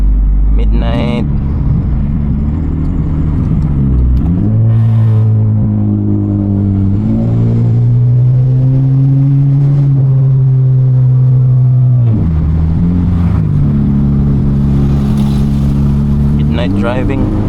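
A Honda Civic FD1 eighth-generation with the R18 engine drives at night, its loud engine note rising and falling through gear changes, revving up and settling into steady drones close to the cabin.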